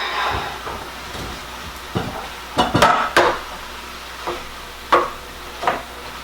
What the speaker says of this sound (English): let's go ahead and stir in the rice